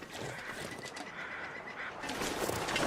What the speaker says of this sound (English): I hear some crows somewhere